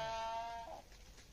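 A sheep from a large flock of about 350 gives a single short, wavering bleat over a quiet, breezy outdoor background.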